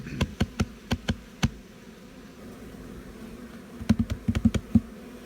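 Honey bees buzz steadily at a crowded hive with hatching brood frames, a constant close drone broken by two clusters of sharp knocks or taps on the woodwork.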